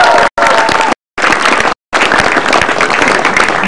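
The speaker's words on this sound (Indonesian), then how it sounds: "Tepuk tangan sekali lagi biar semangat." A studio audience at a televised stand-up comedy show applauds loudly on cue, a dense wash of clapping and crowd noise broken by two brief cutoffs.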